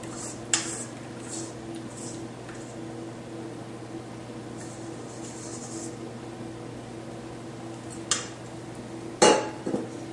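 A spoon scraping the bottom of a canister of cheesecake ice cream mixture, with sparse clinks and scrapes over a steady background hum and a couple of sharper metallic knocks near the end.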